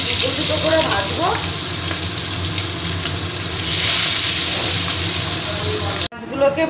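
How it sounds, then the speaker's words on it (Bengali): Pomfret fish fry two at a time in mustard oil salted to limit spattering, a loud, dense, close sizzle that holds steady before cutting off abruptly near the end. "এবার আস্তে আস্তে আমি মাছগুলোকে ভেজে নেব।"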